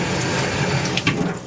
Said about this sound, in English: And the water will just run down perfectly.